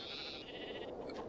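Sheep in a Minecraft TFCraft modded game world, a faint, short bleat heard alone over quiet background.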